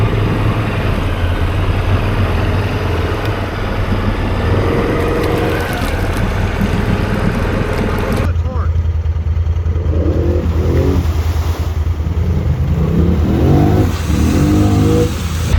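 A 2024 Polaris Sportsman 1000 Highlifter ATV revving hard in deep, sticky mud, its engine roaring loud and close with surging throttle bursts and churning.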